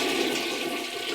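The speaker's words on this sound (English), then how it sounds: "Flushing toilets." A toilet flushes with a steady, loud rush of water that fills the whole short moment, heard alone without any voices.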